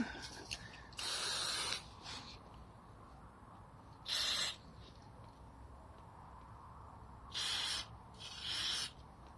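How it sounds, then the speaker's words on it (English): Brake cleaner hisses onto the rear brake of a TNT 125 motorcycle in four short, loud spray bursts separated by quiet gaps. "Just splodging enough brake cleaner."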